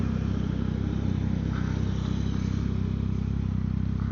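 Triumph Street Triple 675 motorcycle ridden on a road, its engine giving a steady low rumble with wind noise throughout, close and continuous with no talking.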